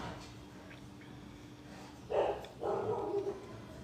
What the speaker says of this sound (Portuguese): então é normal vocês começarem a ouvir um monte de barulheira de cachorro